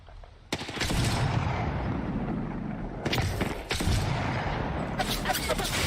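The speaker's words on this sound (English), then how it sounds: "I am taking fire. Getting shot at." Gunfire in the Apex Legends video game, with loud close bursts of rapid shots and heavy impacts in several clusters over continuous battle noise; a voice speaks faintly underneath.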